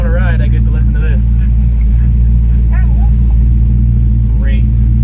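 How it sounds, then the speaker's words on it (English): A loud car exhaust rumbles with a deep, steady drone, while a person talks briefly over the engine noise. "She doesn't like the loud exhaust."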